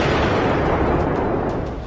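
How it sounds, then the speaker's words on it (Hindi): A heavy explosion rumbles a few kilometres from a Ukrainian power centre during the Russia-Ukraine war, a dense, loud, sustained roar that fades slightly toward the end. "यूक्रेन के पावर सेंटर से चंद किलोमीटर की दूरी पर विस्फोट हो रहा है"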